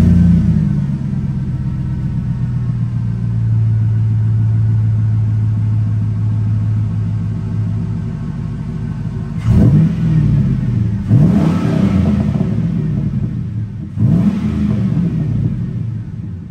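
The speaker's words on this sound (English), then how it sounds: "I think it's got like a Flowmaster on the back, which you just heard." A 2005 GMC Sierra pickup engine with a Flowmaster exhaust idles with a steady low rumble, then revs sharply three times, each burst rising and falling with a deep, throaty exhaust note.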